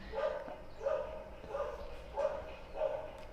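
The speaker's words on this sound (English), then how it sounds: "this dog is continuously barking." A dog barks repeatedly at a steady pace, about five single woofs, somewhat distant and moderately quiet, with no talking.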